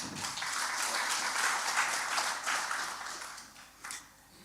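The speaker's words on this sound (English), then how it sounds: "Another round of applause for him." Audience gives a round of applause at a law faculty book launch, moderate crowd clapping that holds steady and then tapers off, with a final stray clap near the end.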